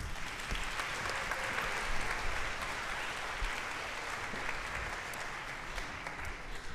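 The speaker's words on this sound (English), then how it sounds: "Why don't we give them another round of applause?" Applause from an audience at a lower school spring concert, a steady wash of clapping that holds evenly for several seconds without a break, fairly distant and moderate in level, with no voices over it.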